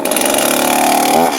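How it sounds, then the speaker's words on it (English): A chainsaw is pulled to start before tree felling, giving a brief loud burst of raspy two-stroke engine noise that sputters and shifts near the end, close and with no voices. "We either do the leg lock or the ground start when starting your chainsaw."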